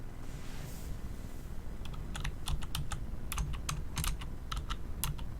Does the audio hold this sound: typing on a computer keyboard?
yes